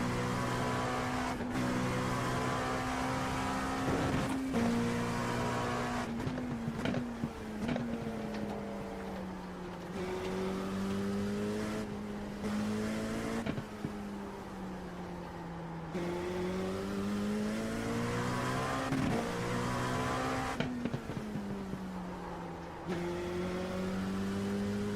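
A NASCAR race car engine roars on the track, a steady, close, high-revving drone with rising and falling pitch as it shifts and laps, with no talking over it.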